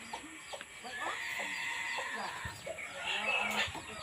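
Chickens cluck and a rooster calls at a moderate distance on a rural farm, with scattered bird sounds over steady outdoor background noise.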